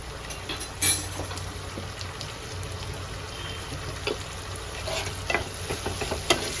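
Chopped onion and tomato frying with salt in a pan for a young jackfruit dopiaza, a steady low sizzle broken by scattered scraping and stirring clicks of a spoon, no voices.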